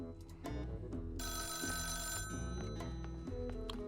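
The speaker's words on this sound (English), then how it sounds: "Phone call!" A telephone rings in the video game Rogue State, a bright repeating electronic bell that sounds close and steady throughout.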